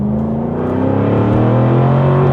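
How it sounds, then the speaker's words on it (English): A Jaguar F-Type R75 in full sport mode revs hard up close, its engine note rising steadily and loudly throughout with no speech. "I can pop it into full sport mode. Really gonna rev it up."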